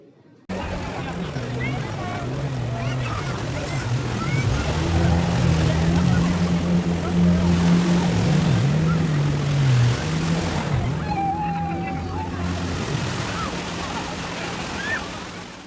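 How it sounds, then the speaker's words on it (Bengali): Motorboat out on the sea at Cox's Bazar, a steady low engine drone running the whole time beneath surf and wind, with voices talking over it. "সে বোট চালাবে সমুদ্রে"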